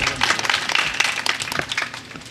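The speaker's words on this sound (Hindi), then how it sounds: "तालियां बजाते रहे बंधुओं।" An audience applauds at an Aalha singing program in Angaura, with dense, steady clapping that carries on without a break for a couple of seconds.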